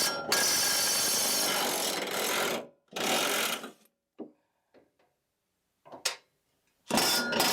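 Ratchet wrench loosening the blade bolts on a Cub Cadet RTZ 50 hydro zero-turn mower, sounding as several bursts of dense rapid clicking, close and loud, with short gaps and a few isolated clacks between them.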